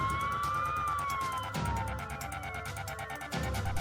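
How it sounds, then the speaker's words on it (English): Wailing police car sirens sweep up and down in pitch as three police cars speed past, loud and continuous, with steady traffic noise underneath throughout. "I heard police sirens. I looked back and saw 3 police cars speed past me."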